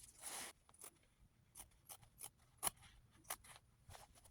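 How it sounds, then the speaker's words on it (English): Scissors snipping through fabric for a boy's shirt, a quiet series of irregular crisp cuts with one longer slicing stroke at the start. "I'm cutting it out."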